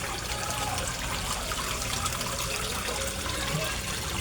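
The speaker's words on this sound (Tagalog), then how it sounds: "ang submersible pump na ginagamit ko guys ang tipid kumain ng kuryente. Pero ang lakas-lakas niyang mag-water pulse." Submersible pump churning water in a koi fish pond, a steady loud bubbling and splashing wash that runs unbroken throughout with no talk.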